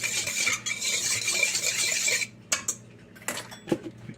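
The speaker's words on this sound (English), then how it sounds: "give that a quick stir" A utensil stirs salt into pizza dough ingredients in a bowl, giving a quick run of scraping, swishing sound for about two seconds. A few sparse clinks and taps follow, close and fairly quiet.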